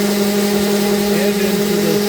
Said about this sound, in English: I still have my shop vac soaking up all of that dust.